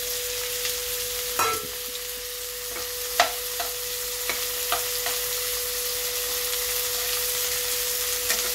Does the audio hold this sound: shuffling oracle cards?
no